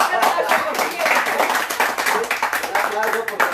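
A steady burst of clapping from a group at a live music gathering fills the whole stretch, dense and even, with voices mixed in underneath.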